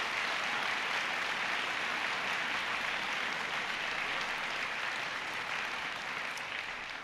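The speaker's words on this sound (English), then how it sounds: "So they deserve a huge round of applause." Steady, dense applause from an audience for school teaching staff, continuous and fairly distant, with no voices over it.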